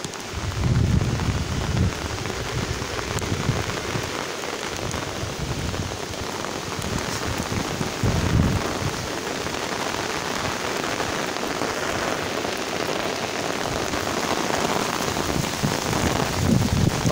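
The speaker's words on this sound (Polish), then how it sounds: "pada coraz mocniej" Heavy rain pours steadily and loudly on a surface, a dense continuous hiss with occasional low rumbles. No voices.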